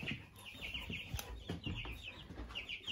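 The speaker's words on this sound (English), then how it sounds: "These are all meat chickens, Ross Cobbs or Cornish Cross" Meat chickens, Ross Cobb or Cornish Cross, in an indoor breeding pen give soft, scattered clucks and murmurs, fairly quiet and close, with occasional rustling.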